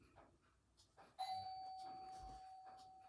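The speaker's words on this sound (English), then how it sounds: "I'm just going to have to pop off because the doorbell's just gone." A doorbell rings once with a clear sustained two-tone chime at moderate loudness in a quiet home, following faint rustling.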